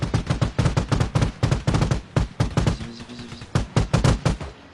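Rapid bursts of video game gunfire, loud and close, firing in quick repeated volleys of sharp shots with brief pauses between strings, no voices over it.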